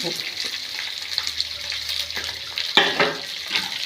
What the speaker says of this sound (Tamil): அஞ்சு பச்சை மிளகா இருபது பல் பூண்டு ஒரு பீஸ் இஞ்சி இதெல்லாம் போட்டு நல்லா வதக்கி விடணும்